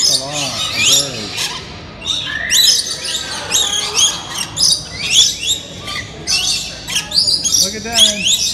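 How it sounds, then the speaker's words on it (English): A dense flock of birds chirps and squawks loudly and continuously, overlapping calls filling the air with a busy, shrill chatter. "Look at those. That's a lot of birds."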